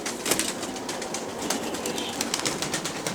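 Pigeons taking off from a coop, a quick flurry of flapping wingbeats, fairly close and continuous for a few seconds, with no voices.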